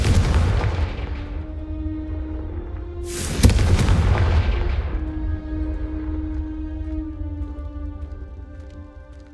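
A fiery Confringo explosion spell in the video game Hogwarts Legacy lands as one loud, sudden boom about a third of the way in. A sustained tonal hum plays underneath, and the blast tails off slowly, with no voices.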